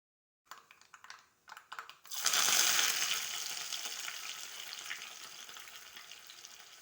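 A few light taps, then a sudden loud, steady crackling sizzle of mustard seeds popping in hot coconut oil, continuing without a break.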